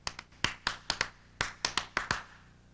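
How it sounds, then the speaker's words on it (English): Hands clap in an irregular, lively rhythm, about a dozen crisp claps close by, with no voices. "You can use your hands to clap"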